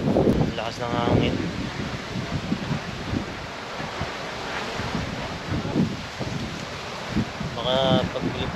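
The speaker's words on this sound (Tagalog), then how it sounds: "Lakas ng hangin." Strong wind gusting across a windmill farm in Pililla, Rizal, a steady broad roar buffeting the microphone throughout, with voices talking over it at the start and end.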